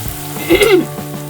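Four green chilies drop into hot oil in a home kitchen pan while cooking a bora curry, giving a brief close sizzle that swells for a moment over a steady low hiss.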